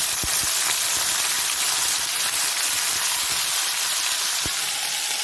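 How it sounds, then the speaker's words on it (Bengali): Small river fish rubbed with salt and turmeric frying in hot oil give a loud, continuous sizzle with a few sharp pops and crackles scattered through it, and no one speaks. "তেল গরম হয়ে গেছে, মাছগুলো দিচ্ছি এবারে।"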